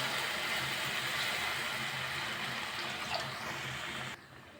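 Water pours steadily into a pan of tomato kurma, a soft, continuous rushing splash, then stops abruptly near the end.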